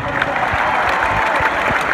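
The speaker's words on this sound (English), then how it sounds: "so give yourselves a round of applause" A concert audience at a show in Sydney breaks into steady, dense applause filling the whole stretch, with a crowd murmur mixed under the clapping.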